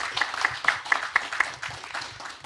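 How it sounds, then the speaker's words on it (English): Audience applause at the close of the Wrocław Security Summit, a steady patter of many hands clapping at moderate volume with a few sharper claps standing out, filling the whole stretch without speech. "Great applause to all of you."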